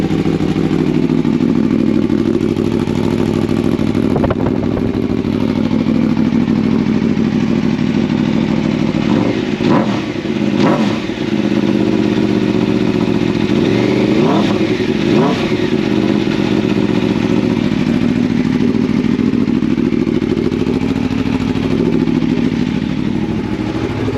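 A loud Aprilia Tuono 1100 V4 Factory motorcycle with a Mivv SR-1 exhaust, baffle removed, idles roughly, then revs sharply a couple of times in short bursts, close and continuous throughout.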